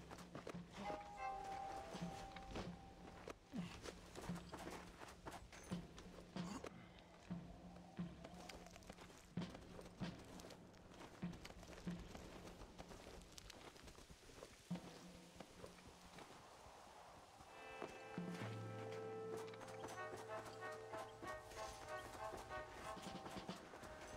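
Horse hooves clip-clop at a walk and then a trot in Red Dead Redemption, a steady rhythmic beat that runs through most of the stretch over ambient game sound and music, with faint speech present.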